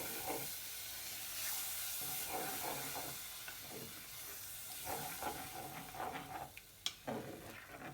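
Tomato soup with milk being stirred in a pot, a steady soft hiss and sizzle with faint scraping movements, quiet and close with no talk.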